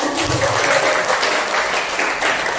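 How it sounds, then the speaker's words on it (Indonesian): An audience at a book-writing workshop gives a sustained round of applause, dense, even clapping filling the room. "Boleh tepuk tangannya."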